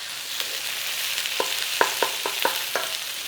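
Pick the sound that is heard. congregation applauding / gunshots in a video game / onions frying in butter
onions frying in butter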